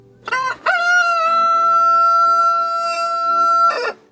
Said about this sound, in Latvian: uz vārtiem tupēja gailis un dziedāja pilnā kaklā